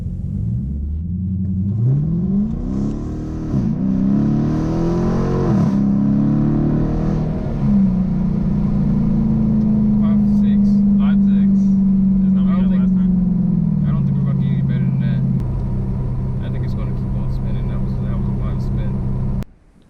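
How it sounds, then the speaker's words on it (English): A Dodge Challenger fitted with a K&N cold air intake revs hard while brake boosting, its loud engine rising and falling in several sharp pulls before settling into a sustained high, droning hold that cuts off abruptly at the end. "We're going brake boosting."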